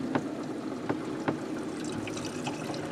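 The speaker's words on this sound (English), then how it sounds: "Here comes the water." Water runs into a repaired RV shower drain, a faint, steady trickle close by with a few soft splashes and drips.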